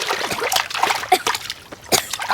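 A boy flounders in water, producing irregular splashes and sloshing bursts, some sharp and close, separated by brief quieter gaps.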